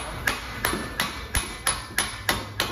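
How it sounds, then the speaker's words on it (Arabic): Light hammer taps knocking a worn control-arm bushing out of a 2014 Porsche Boxster suspension arm, eight sharp metallic strikes at an even, unhurried rhythm, close and clear with no talk. "وعلشان يطلع العكس يعطيها ضربة خفيفة من السنة اللي هنا"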